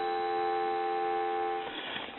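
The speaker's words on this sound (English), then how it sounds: "Give you some dial tone." A steady, continuous dial tone hums from the handset of a wooden wall telephone under repair. It stays even for about two seconds before a little handling noise at the end.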